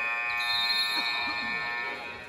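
A basketball game buzzer sounds at halftime of a streetball matchup between Team Shootout and Skool: a loud, steady electronic tone that holds for about two seconds, with crowd noise and a commentator's voice behind it.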